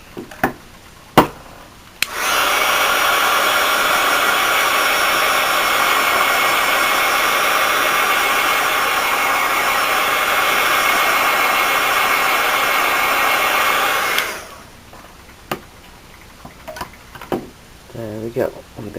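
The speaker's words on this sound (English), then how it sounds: "I'll hit it with my heat gun" A heat gun blows steadily on hot glue art Easter eggs, a loud continuous rushing whoosh lasting about twelve seconds, with brief clicks and handling noises before and after.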